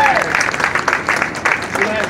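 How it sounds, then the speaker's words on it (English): Round of applause from the audience at a downtown business ribbon cutting in Bethlehem, a dense, steady crowd clapping that fills the moment with some voices mixed in. "Let's give him a round of applause"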